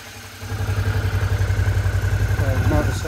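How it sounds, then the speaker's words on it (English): A Suzuki DL 650 V-Strom motorcycle engine catches at about half a second and settles into a loud, close, steady idle with an even low pulsing throb and a light mechanical clatter that continues to the end. "Motor sounds really nice"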